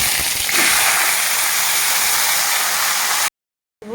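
Cabbage goes into hot oil with fried cumin and sizzles in a loud, steady hiss for about three seconds. It then cuts off abruptly.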